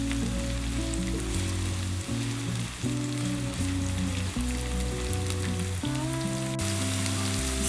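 Chopped red and green sweet peppers sauté in a pan with a constant crackling sizzle, heard beneath louder background music with shifting chords.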